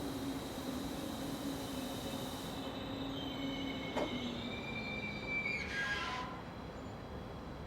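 A short freight train hauled by an electric locomotive rolls past at a distance on a German line, a steady rumble with faint wheel squeals and tonal whines drifting through.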